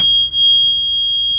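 A boat's battery management system alarm gives off a steady, loud, high electronic tone that holds unbroken through the whole moment, with faint low rumble underneath.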